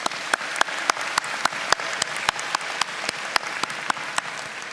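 Steady audience applause honoring college alumni at a spring graduation ceremony, a continuous wash of clapping with sharper individual claps standing out throughout.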